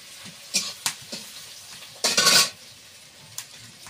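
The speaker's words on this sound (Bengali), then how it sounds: "তেলে পেঁয়াজটা দিয়ে দিচ্ছি।" Sliced onion goes into hot oil in a pan and sizzles, with a few sharp scrapes and stirring clatters of a utensil, then a loud burst of frying hiss before settling to a low background crackle.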